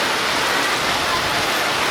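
Heavy rain pours steadily as a dense, even hiss with no breaks, loud and close, falling on an outdoor flag ceremony at an Islamic boarding school.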